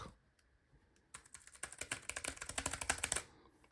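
Rapid typing on a Bluetooth keyboard connected to a Mac, a quick run of crisp key clicks that starts after a brief pause and keeps a steady pace for about two seconds, close and clear with no talking.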